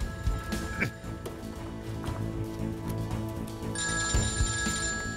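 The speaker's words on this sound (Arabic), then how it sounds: "اسمعوا وين عم يرن هذا الموبايل" A phone's electronic ringtone chimes repeatedly at moderate distance, over a busy background with thumps and movement.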